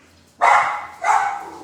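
Indoor dog barking at someone arriving outside, two loud, close barks in quick succession with nothing else around them.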